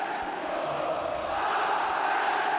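Atlético Paranaense football supporters cheering at Arena da Baixada during a Campeonato Brasileiro match against Corinthians, a steady, distant crowd roar without clear peaks.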